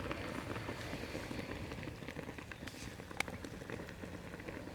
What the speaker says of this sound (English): it's boiling away in the juices